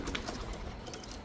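A racing pigeon coos softly at close range, a few low rounded calls against a faint outdoor background with no talking.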